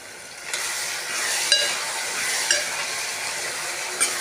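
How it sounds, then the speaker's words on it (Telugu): Chili powder and spices frying in oil in a pan give a steady close sizzle and hiss, with a few soft clicks of a spoon stirring at intervals. "ఇలా నూనెలోనే ఫ్రై చేసుకోవాలి."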